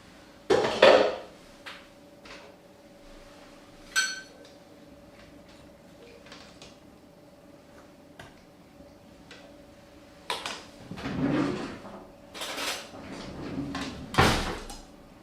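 Cooked cabbage set onto a plate in a kitchen, with dull knocks and clinks of dishes, a soft clatter at the start and several louder thuds and scrapes near the end over a faint hum.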